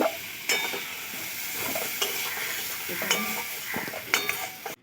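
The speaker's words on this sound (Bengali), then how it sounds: "আমার বরবটি আর ঝিঙে খুব ভালো করে ভেজে নিয়েছি এবার তুলে নেব" Yardlong beans and ridge gourd are stirred as they fry in a pan, with a close sizzle under repeated scraping strokes and utensil clicks against the pan, and no talking.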